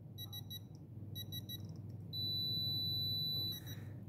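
A Pittsburgh Pro 1/2-inch drive digital torque adapter gives repeated electronic beeps in quick clusters, then a single long steady tone on reaching set torque, over a low mechanical hum.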